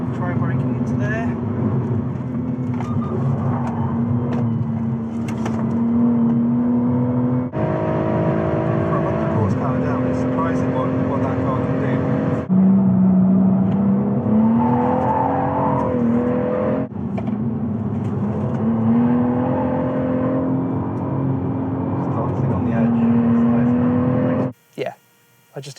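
A BMW M140i with its B58 engine is driven hard on a track day, its engine droning steadily and loudly, rising and falling through gear changes and braking across a long in-car run.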